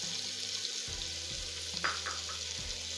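Spices including red chili, Kashmiri chili and turmeric sizzle and fry with tomatoes in a pan for black lobia curry, a steady hiss broken by a few scraping stirs of a spoon against the pan.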